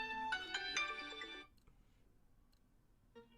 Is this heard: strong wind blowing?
no